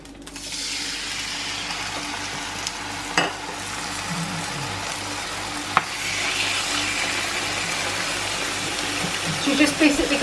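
Lamb chops sizzle in hot oil in a pan, a loud, steady, crackling hiss that fills the whole stretch, with a few sharper spits and faint talk in the background.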